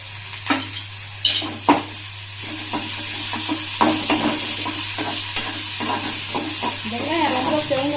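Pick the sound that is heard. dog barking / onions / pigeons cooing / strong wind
onions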